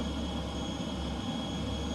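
Continuous jet engine drone of a DC Designs F-15C in Microsoft Flight Simulator 2020 at RAF Lakenheath, a steady broadband roar with tonal whine layered on top, held without break and with no talking.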